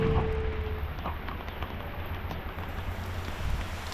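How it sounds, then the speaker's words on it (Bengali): Heavy rain pours onto a road at Nilgiri in Bandarban, a dense, close, steady hiss of water with a wind-buffeted rumble underneath and no speech. "রাস্তার উপরে বৃষ্টি"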